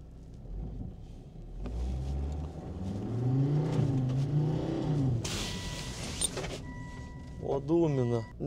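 A four-wheel-drive car revs, its engine note rising and falling in a swelling, wavering roar as the wheels spin, with people talking over it and a whining, warbling burst near the end.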